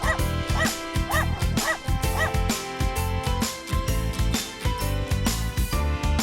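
Several yipping dog barks in a rhythmic series over loud, busy background music, each bark short and high-pitched.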